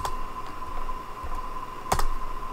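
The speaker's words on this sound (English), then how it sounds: "Let's go to our terminal and type in G++" Fingers typing a command into a computer terminal on a keyboard, sparse soft key clicks with a sharper double tap near the end, over a faint steady background hum.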